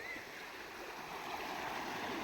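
Rain floodwater pours into a village canal as a continuous, even rushing flow, with no speech.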